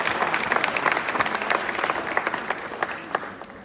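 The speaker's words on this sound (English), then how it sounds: "we'll give them a big round of applause" Sustained applause from a crowd at a civic dinner, dense clapping that stays steady and fairly loud before tapering slightly at the end.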